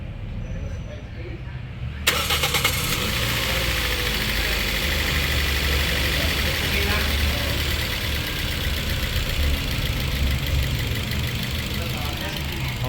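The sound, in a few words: Toyota 2NZ-FE car engine starting and running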